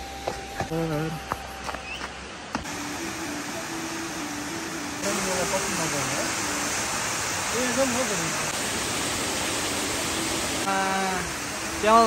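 Tindhare waterfall sends up a steady, broad rushing roar that runs through the whole stretch, growing a little fuller midway, while people talk excitedly over it.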